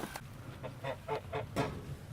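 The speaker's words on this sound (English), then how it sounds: "We got a broody hen." Broody hen sitting on a clutch of eggs, giving a short run of soft, evenly spaced low clucks, close and fairly quiet, with no talk.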